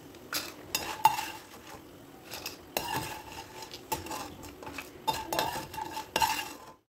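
A spoon lifts fried lentil dumplings out of hot oil in a pan, with irregular metallic scrapes and clinks against the pan, a faint sizzle underneath, and quiet stretches between the bursts of stirring.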